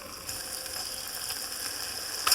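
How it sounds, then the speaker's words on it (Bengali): Spices with salt and turmeric sizzle steadily in hot oil for a banana flower curry: a bright, continuous hiss, close and even, swelling slightly at the end. "ওই তেলের মধ্যে মশলাটা দিয়ে দিচ্ছি"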